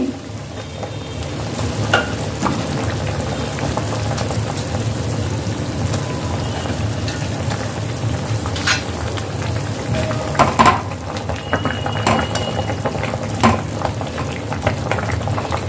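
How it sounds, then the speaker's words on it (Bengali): Fried rohu fish pieces go into a simmering vegetable curry in a Chittagong-style kitchen, giving a steady bubbling and sizzling hiss with a few small clinks and stirs throughout. "ঝোলটা ফুটে উঠেছে এবার আমি মাছ ভাজাগুলো দিয়ে দেব"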